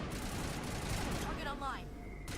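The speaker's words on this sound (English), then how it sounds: "go to a nightclub and everyone starts shooting at you" Enemy gunfire in a Mass Effect nightclub shootout, a dense, continuous barrage of shots filling the whole stretch, with chirping sci-fi effects toward the end and voices mixed in.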